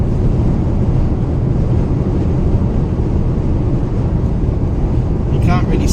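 Steady, heavy roaring wind noise from 100-kilometre gusts buffeting a small car, a dense rumbling rush with no pauses.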